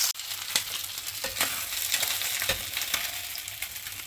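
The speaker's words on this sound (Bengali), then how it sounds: "আমার মাছগুলি ভাজা হয়ে গেছে" Rohu fish belly pieces frying in hot oil, a close, constant crackling sizzle punctuated by occasional sharper pops and a turn of the pieces.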